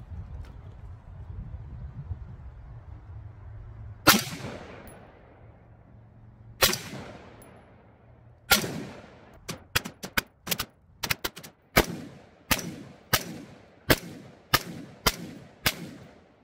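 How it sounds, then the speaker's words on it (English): Single shots ring out from a Radical Defense AR15 patrol rifle fired with iron sights, a few sharp cracks spaced seconds apart followed by a faster series of evenly paced shots, each with a short decaying tail. "All right, we are gonna do first shots. I got the iron sights out."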